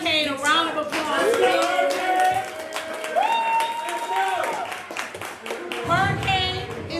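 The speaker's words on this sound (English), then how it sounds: "Let's give Hurricane a round of applause" Audience at a comedy podcast recording clapping and cheering for the MC, the applause mixed with overlapping voices and laughter throughout, fairly loud and close.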